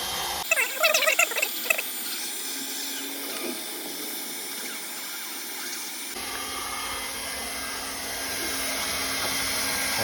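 A hot-air welder blows with a steady, loud hiss and whoosh while welding reinforced PVC pool liner. The pitch shifts partway through as the airflow changes, and there is light handling noise early on.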